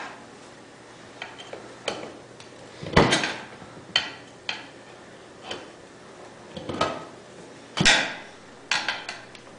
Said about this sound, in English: we're just using screwdriver, and you go right where the valve stem is so you don't wreck your valve stem. And you go right here. Pry that up.